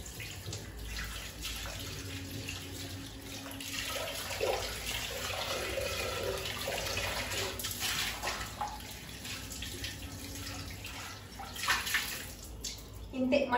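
Water splashes and runs steadily while clay, brass and iron cooking pots are washed. The rushing, close-up sound continues for the whole stretch, with clatter and brief rises near the end.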